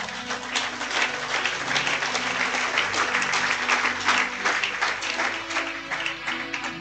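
A church congregation claps together in sustained, dense applause to acclaim the Lord, loud and steady throughout, with faint musical tones underneath and no clear speech.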